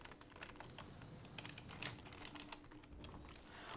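Rapid typing on a computer keyboard, a dense patter of close key clicks that keeps going steadily for a few seconds, quiet and with no voices.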